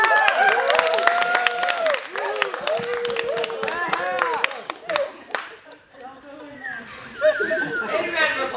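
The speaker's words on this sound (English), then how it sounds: "And a round of applause." An audience at a live Brothers Grimm stage show breaks into applause, with a crowd clapping and chuckling under lively talk and children's voices before the clapping thins out.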